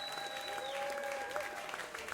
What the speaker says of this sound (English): Behind me, I can hear the audience cheers grow louder.